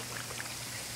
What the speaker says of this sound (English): You can just hear it just bubbling up.